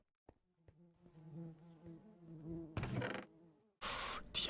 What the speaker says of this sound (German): Die Bienen mögen das nicht, wenn ich da so nah dran bin.